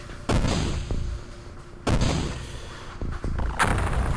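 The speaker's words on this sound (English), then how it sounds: "the detonation of a nearby cyber disk is apparently enough to take one out" Cyber disc detonations in the XCOM video game: a few sharp, loud booms at irregular intervals, each followed by a decaying rumble and some smaller thuds.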